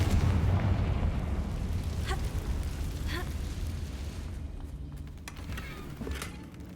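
Confringo spell blast in Hogwarts Legacy, a deep rolling rumble that fades slowly with a few faint crackles and whooshes trailing behind.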